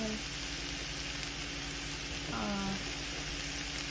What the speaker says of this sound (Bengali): পাতাকপি ভাজি করছি